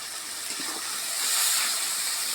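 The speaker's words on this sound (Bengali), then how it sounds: "এখন মশলাটা কষে নিব।" Spice paste with chilli powder and ground masala frying in a pan, a steady broad hiss that swells slightly midway, close and continuous with no voices.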